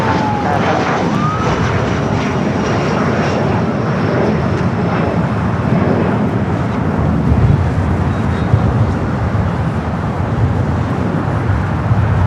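An Alaska Airlines jet takes off from runway 25 right at LAX, its engines roaring loud and steady for the full stretch, with a broad rumbling wash of jet noise and distant traffic beneath.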